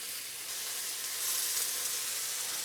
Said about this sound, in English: Okay, give it a flip. I want to get a nice color, caramelization on the meat.